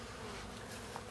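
Honey bees buzzing in a steady dense drone around a hive box during an oxalic acid treatment with cardboard strips, close and continuous, with no voices.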